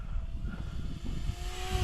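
Electrostreak model airplane flying under throttle, a faint, steady electric motor drone with a thin whine holding across the short stretch, heard from a distance over low wind rumble.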